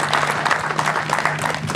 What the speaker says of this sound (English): Another round of applause for Luann, please.